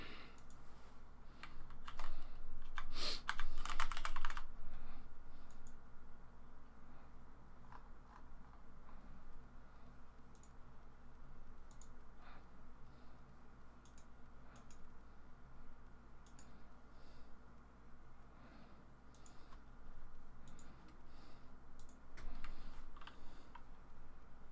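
Fingers tap steadily on a Mac chiclet keyboard, a long run of soft, fast keystrokes close by with brief bursts of louder clicks and no talking.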